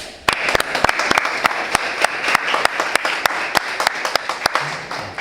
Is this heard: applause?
yes